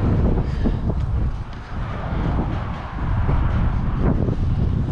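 Gusty wind buffeting the microphone outside a WW2 decoy bunker in the countryside, a continuous rumbling roar that rises and dips in uneven surges.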